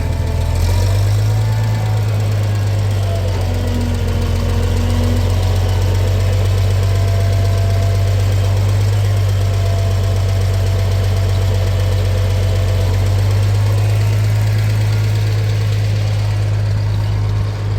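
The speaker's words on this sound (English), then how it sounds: "Speed the tractor up a little bit." A tractor engine runs steadily and loudly throughout, with a deep continuous hum and rough mechanical vibration, nearby and unbroken.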